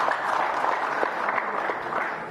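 Steady crowd applause at a political rally supporting a presidential ticket, a dense wash of clapping from many hands, moderately loud and continuous, with faint voices mixed in.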